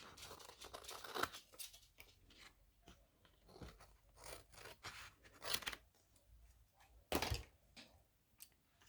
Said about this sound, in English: let's cut off this here at the top